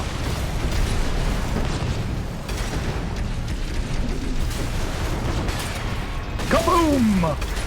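An explosion in the video game Armored Core VI, a dense rumbling blast bed running throughout at steady loudness, with a sharp burst and a falling whistle-like sweep near the end, and a voice talking over it.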